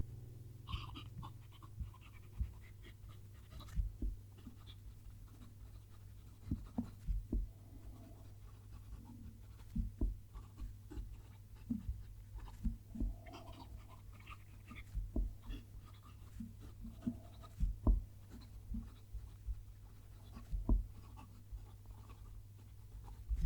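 A Visconti fountain pen nib writes on paper, faint scratchy strokes in short irregular bursts over a low steady hum, close up and quiet throughout.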